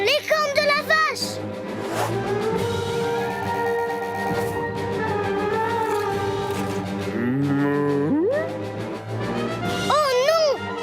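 A cow moos in long, loud, drawn-out calls that swell and fade, with brief lively voices at the start and end.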